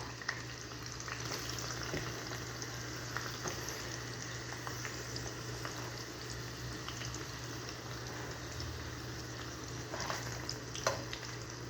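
Garlic and onion sautéing in a pan, a quiet, even crackling sizzle that runs steadily throughout with an occasional light tap of a utensil, no speech.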